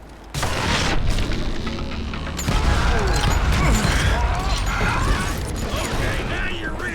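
Dynamite blasts and gunfight in the Wild West shooter Call of Juarez Gunslinger, with loud booming bursts, rumbling debris and clattering mechanical noise filling the scene, a heavy surge hitting midway; no speech over it.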